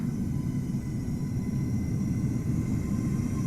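Simulated airliner in Qatar livery at Amsterdam Schiphol in Microsoft Flight Simulator, cloudy weather, giving a steady, loud low jet-engine rumble that holds without a break, no voices over it.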